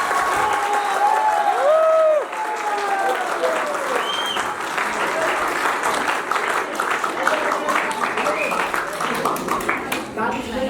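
The Kathmandu Vijay church congregation applauds at a song launch, a loud, dense burst of clapping and cheering that carries on at a full level, with a voice over a microphone at the start and crowd voices mixed in.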